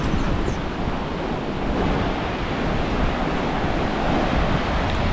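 Ocean waves wash onto Congo Beach in Kenya, a steady broadband roar of surf that continues without a break, with wind buffeting the microphone throughout and no voices.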